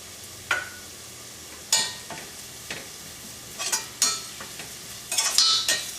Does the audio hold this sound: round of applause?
no